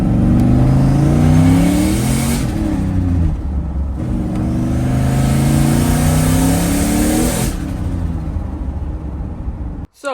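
Turbocharged 6.0 engine swapped into an OBS truck revving hard under load, loud and close, pitch rising in two long pulls with a brief lift between, ending abruptly with a clunk.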